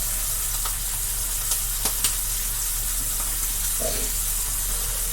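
Butter sizzling in a non-stick pan on medium heat, a steady close hiss of frying with a few faint clicks and stirring touches.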